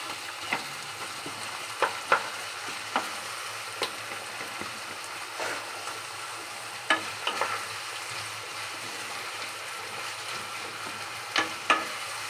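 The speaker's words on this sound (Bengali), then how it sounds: "এবার ভালো করে লাল হয়ে ভাজা হবে।" Onions frying in oil in a pan after salt has been added, giving a steady close sizzle broken by scattered sharp stirring scrapes and clicks from a utensil, with no one talking.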